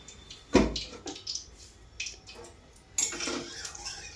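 Mutton is stirred in hot oil in a metal pot, with soft irregular clinks and scrapes of the spoon and a wet sizzle underneath, fairly quiet and close.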